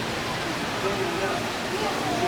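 Steady broadband rush of a waterfall at a monkey exhibit in a Minnesota zoo on a winter day, continuous and fairly loud, with faint voices underneath.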